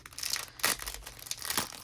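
A plastic pack of trim embellishments crinkles and crackles as it is handled up close, a soft continuous rustle with a few louder crunchy bursts.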